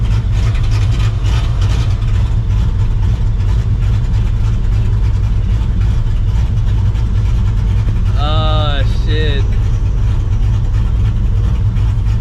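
A loud 600-horsepower 2-valve Ford Mustang GT engine idles with a steady low rumble throughout, and a voice briefly exclaims near the end.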